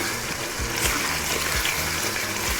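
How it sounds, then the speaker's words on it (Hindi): Water pours into a pan of frying daal mash, a continuous splashing trickle with a few soft clunks as it is added, close and fairly loud. "अब इसमें हम थोड़ा सा पानी डालेंगे।"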